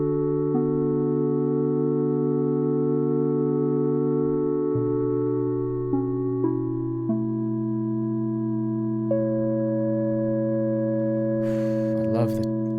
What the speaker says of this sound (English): Degraded sine, nice and simple sine wave keys.